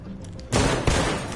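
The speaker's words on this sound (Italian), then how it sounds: "Ecco, già abbiamo i primi spari." Gunshots ring out in the video game Detroit: Become Human: a sudden loud burst of fire, then a second sharp shot a moment later, with no one talking.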